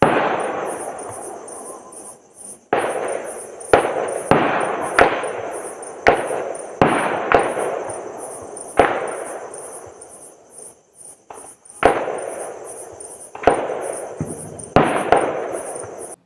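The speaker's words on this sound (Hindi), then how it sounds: "इसमें भी आप वीडियो में सुने कि किस तरह से ब्लास्ट की आवाज़ आ रही है" Repeated sharp explosive blasts from para bombs, illumination flares, bursting in the dark during a Maoist attack on a camp in Bijapur, each a sudden crack with a long rolling tail, spaced a second or two apart over a steady insect chirr.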